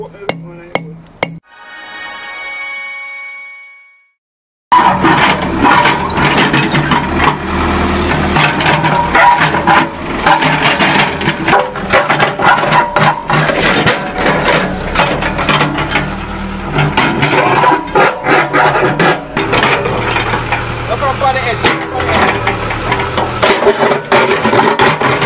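A hydraulic chisel breaker hammering a boulder, loud rapid mechanical pounding and grinding that runs continuously after a short opening tone and silence, with no talking.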